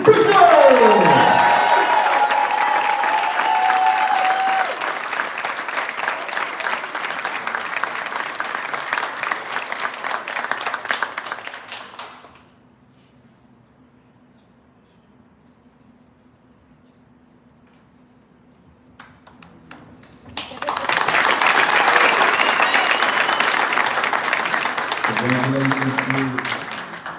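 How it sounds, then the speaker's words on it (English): A crowd at a Nashville SC Unified team signing day breaks into sustained applause for Bree Briscoe, dense clapping that stops for several seconds and then resumes, with a voice briefly audible at the close. "everybody please give a huge round of applause for Bree Briscoe!"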